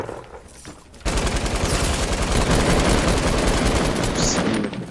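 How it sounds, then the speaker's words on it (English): Rapid automatic gunfire in Fortnite, a dense, loud burst of shots that starts abruptly after a quieter second and holds steady for nearly four seconds before easing off. "Oh, I'm getting shot from behind."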